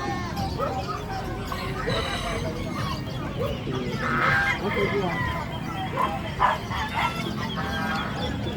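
Fighting roosters and chickens crow and cluck at a market stall amid a noisy crowd, with people talking nearby and other animal calls, including goats, mixed into the busy background.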